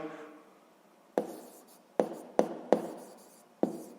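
A pen taps and scratches on paper while the solution to a sixth-grade math exercise is written out, giving five or six sharp strokes with short scratchy tails at an uneven pace, close and quiet.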